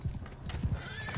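Horse hooves clip-clop in a video game, a steady run of close, distinct hoofbeats with a horse's whinny rising over them; no talk.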